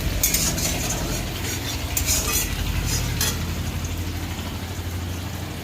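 Steady sizzling of onions and green chillies frying in oil, with occasional scraping and clinks of a utensil stirring the pan throughout, close and continuous.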